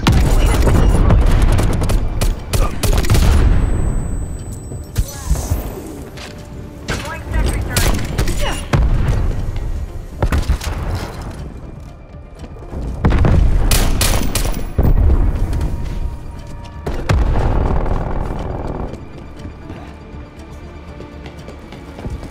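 A War Machine grenade launcher fires during a Black Ops Cold War Team Deathmatch on Crossroads Strike, sending a series of loud, deep explosive booms over dense game gunfire, with voices mixed in.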